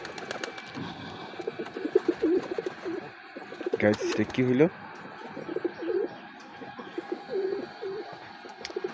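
Sirazi pigeons, a nesting pair whose two eggs failed to hatch, coo and murmur softly in the background, a low continuous burbling with one brief louder burst as a person speaks over it.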